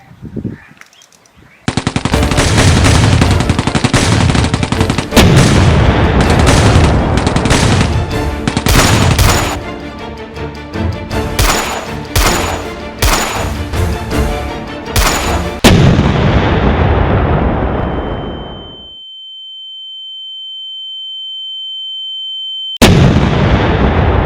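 Rapid machine-gun bursts and booming artillery fire in a 1965 Indo-Pak war film erupt loudly together, then fade into a sustained high tone before another blast cuts in.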